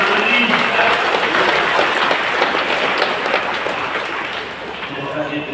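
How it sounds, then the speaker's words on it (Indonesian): An audience claps at a Christmas celebration, a dense steady patter of applause that goes on for several seconds and thins slightly toward the end, with a voice faintly present. "Mari kita berikan aplaus yang berimbang."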